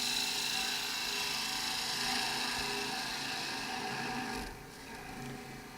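A wood-turning gouge makes a shearing cut on a spinning pepper mill blank on a lathe, a steady hissing scrape over a motor hum that eases off near the end.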